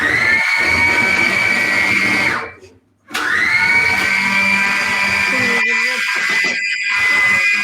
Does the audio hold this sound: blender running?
yes